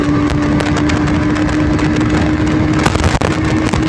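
A 2024 BS7 Bajaj Pulsar NS200 with a 200cc engine rides in fifth gear. Its engine holds a loud, steady drone with a sustained tone, mixed with rushing wind noise throughout.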